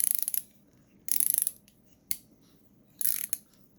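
Close, sharp ratchet clicks from an EZ Red WR5ML ratcheting wrench come in short quick bursts, with one single click in between, against a quiet background and no voices.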